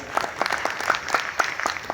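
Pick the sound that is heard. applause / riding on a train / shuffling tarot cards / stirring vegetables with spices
applause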